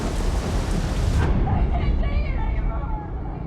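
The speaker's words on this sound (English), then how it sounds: "lightning brings down a huge tree dangerously close to them" Heavy thunderstorm in the Amazon rainforest at night: dense, loud rain roars steadily with low rumbling thunder throughout, no voices.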